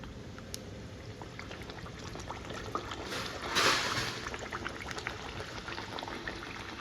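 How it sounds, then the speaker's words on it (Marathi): Puris dropped into hot oil give a steady, dense bubbling sizzle, with a brief surge of louder frying about halfway through as a new puri goes in; no talking. "तेल आपलं आता गरम झालेलं आहे तेलामध्ये मी पुरी सोडते"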